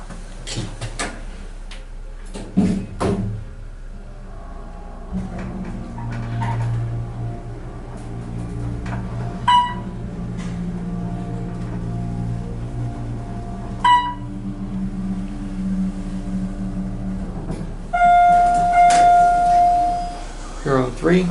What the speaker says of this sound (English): And here's the elevator.